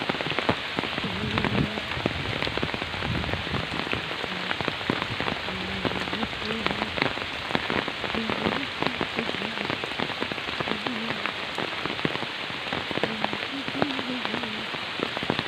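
Steady rain falls over the open ground where Chinese and local ducks forage, a continuous dense patter, with occasional faint duck calls and a distant voice underneath.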